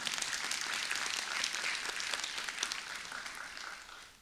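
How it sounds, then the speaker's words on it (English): An audience at a university college awards ceremony claps in sustained applause, a dense patter of many hands that holds steady and slowly fades near the end. "we should also give another round of applause for Victoria"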